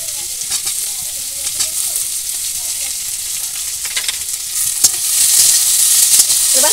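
Sliced onion and slit green chillies frying in oil in a village kitchen, a steady close hiss of sizzling that swells louder toward the end, with faint stirring crackles.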